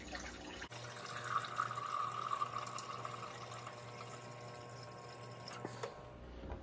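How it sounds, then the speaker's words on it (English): Tap water pours steadily into a container holding citric acid to mix a descaler for a Keurig K-Slim coffee maker, a continuous close rushing flow that starts abruptly and stops after about five seconds. "now I'm going to fill up this container to about the 800 milliliter mark."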